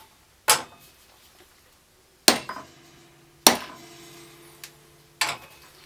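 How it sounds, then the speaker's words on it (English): Several sharp, hard taps of a mallet setting a lathe prong drive into the end of square wood, one near the start and four more at uneven intervals, each ringing briefly before fading; loud and close with quiet between. "give it a tap with a mallet or a hammer"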